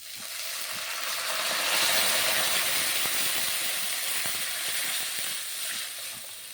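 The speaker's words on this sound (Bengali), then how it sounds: "ভাতের ফ্যানটা নিয়েছিলাম আমি কড়াইতে দিয়ে দিচ্ছি" Rice starch water poured into hot tempering in a wok sets off a broad, steady sizzling hiss, fairly soft and close, with faint crackles and small ticks scattered underneath and no voices.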